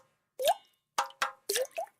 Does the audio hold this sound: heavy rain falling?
no